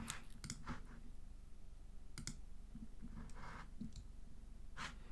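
Mouse clicks on a computer while downloading a widescreen background photo, a few soft, sharp clicks spaced across the span over a steady low room hum, near and faint.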